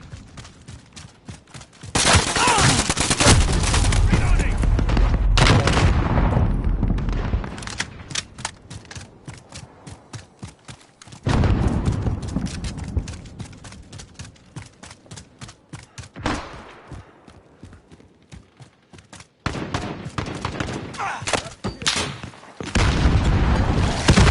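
Call of Duty gunfire and grenade blasts, loud bursts of rapid automatic fire and heavy booms in several long waves separated by quieter stretches of scattered shots, with no voices.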